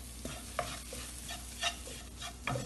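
Spice powders being stirred and roasted in a pan for egg roast, quiet intermittent scraping strokes of a spoon against the pan over a faint low sizzle.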